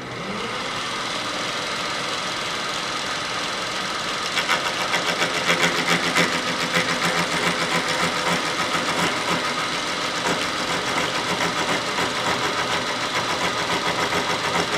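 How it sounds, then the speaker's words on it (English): A gear cutting machine machines a 10 degree helical gear, giving a loud, steady mechanical drone that grows a rapid rattling pulse partway through and keeps running without pause, with no talking. "And we'll cut one more gear."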